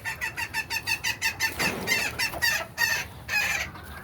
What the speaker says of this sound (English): Big rooster, little chicken.